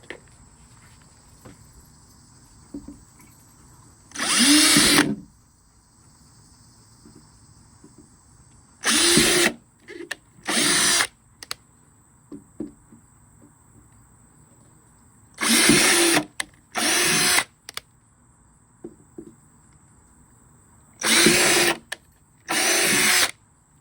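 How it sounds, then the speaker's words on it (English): An electric drill with a 5/32 bit whirs in short bursts, drilling holes in a barrel, about six separate runs of a few seconds each with quiet pauses between, close by. "I'm going to use a 5/32 bit and just drill my holes"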